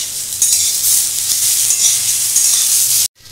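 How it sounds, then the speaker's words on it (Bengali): Ginger and green chili frying in a pan with tomato, a loud close hiss of sizzling oil running steadily, then cut off abruptly near the end. "আদা আর কাঁচা লঙ্কা ভেজে নিয়েছি। এখন এতে আমি একটা ছোটো মতো টমেটো দিই।"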